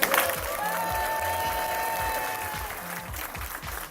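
A crowd at a Brazilian jiu-jitsu dojo gathering gives a big round of applause, a steady, dense clapping that holds at an even level throughout, with a sustained musical tone and a low rhythmic beat running beneath.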